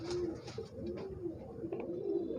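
A pigeon coos close by in a steady series of low, soft, repeated calls with a mild rumble behind them.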